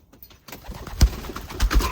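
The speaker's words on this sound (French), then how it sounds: "Donc là il y a un pigeon dehors." Soft, low cooing of a pigeon outdoors at a breeding loft, a few muffled throaty calls close by amid rustling and handling noises.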